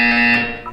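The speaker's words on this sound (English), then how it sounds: "You will hear a buzzer." An electronic buzzer tone in the video game Portal 2, a loud, steady harmonic drone lasting under a second before dropping away, with no talk over it.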